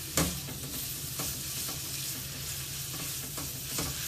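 Potatoes frying in a pan for a chorizo and red onion omelette give a constant close sizzle, with occasional light scrapes of stirring.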